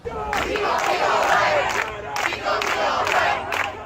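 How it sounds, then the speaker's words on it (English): A large crowd of street protesters chants a song in unison, loud and close, with rhythmic waves of voices rising and falling across the whole stretch. "Crowds of protesters in American streets, singing one word of hope back and forth like scripture."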